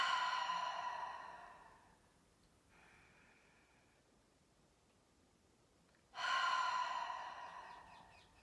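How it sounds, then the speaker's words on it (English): Slow, deep breaths in and out during a guided relaxation: a long airy exhale that fades, a quiet pause with a faint breath, then another strong breathy rush close to the microphone. "take a couple of deep breaths in and out"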